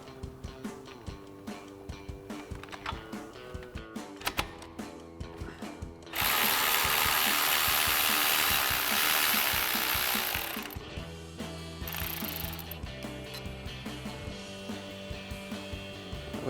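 Power tool work on a 1999-2002 Mustang brake caliper: a steady, loud whir runs for several seconds, framed by intermittent mechanical clatter and clicks before and after.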